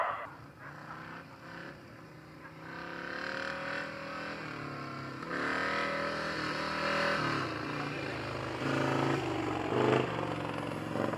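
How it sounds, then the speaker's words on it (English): A grasstrack racing sidecar outfit with a V-twin engine drones and revs during late practice, the engine note rising and falling in sustained pulls as it circles, loud and fairly close, with no speech. "it looks like we got a sidecar late practice coming out"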